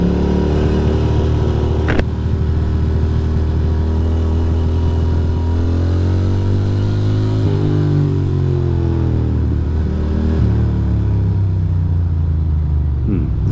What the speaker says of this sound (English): This bike sounds good, man.